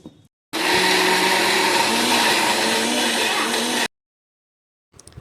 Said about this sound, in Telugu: ఇప్పుడు దీనంతా ఒకటేసారి తీసుకొని మిక్సీ పట్టుకోవాలి.